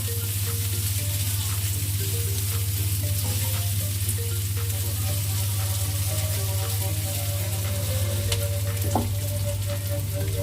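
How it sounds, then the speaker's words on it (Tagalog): Sliced pork belly fries in a pan with a constant, close sizzle and occasional light stirring clinks, no voices heard. "Gawin na natin yung ating fried sliced pork."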